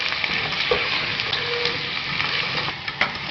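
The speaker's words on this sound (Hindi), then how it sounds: "फिर भूनेंगे इसको हम।" Garlic and ginger fry in a pan for chicken biryani, making a continuous, fairly loud hiss and crackle with a few small pops toward the end.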